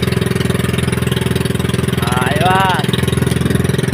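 A boat's engine drones steadily with a rapid, even pulse while the boat crosses the open sea between Mabini and Lobo, Batangas, loud and close throughout, with someone speaking briefly over it.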